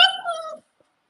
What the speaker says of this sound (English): Here's the puppies.